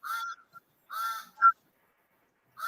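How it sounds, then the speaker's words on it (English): A bird calls in harsh, raspy bursts, three loud caws spaced across a couple of seconds with a short sharp squawk between, clear and fairly close against silence. "Is that a chicken I can hear there, Dr. Nii?"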